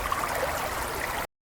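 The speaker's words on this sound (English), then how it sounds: "Start by washing 200 g of lettuce under cold water" Cold tap water runs steadily while 200 g of lettuce is washed in a kitchen, giving a continuous splashing trickle that cuts off abruptly, with no voices.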